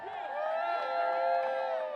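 A crowd of DC statehood demonstrators cheers at an outdoor rally near the Capitol, a sustained roar of voices and whoops held for a couple of seconds.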